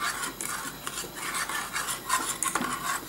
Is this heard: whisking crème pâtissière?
yes